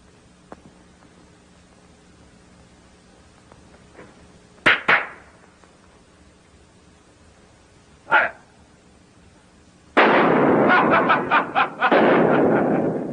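Gunshots in the 1933 film The Emperor Jones: a few sharp, separated cracks at mid-distance, then a dense, loud volley of shots lasting several seconds over faint background hiss.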